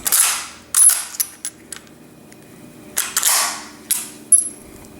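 A Savage 1899 lever-action rifle chambered in .32-40 Win is cycled, giving sharp metallic clacks and ratcheting clicks in several close, loud bursts separated by brief pauses, with no talk.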